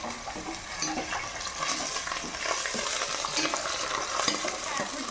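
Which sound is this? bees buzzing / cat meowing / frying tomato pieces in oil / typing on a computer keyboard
frying tomato pieces in oil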